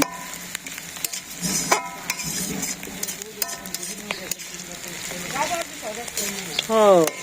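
Fish head frying in a village pan with onion and ground cumin, giving a close, steady sizzle broken by scraping stirs and clinks of a utensil, while a voice talks intermittently over the cooking.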